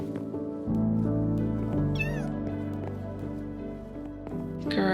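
A cat in Minecraft meows loudly and close several times, rising, wavering cries set over a sustained musical backdrop, with no talk.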